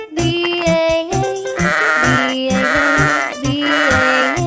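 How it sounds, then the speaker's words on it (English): Sheep bleating in a meadow, repeated loud wavering baas set over a rhythmic musical backing with steady beats. "Sheep in the meadow, B-A-A"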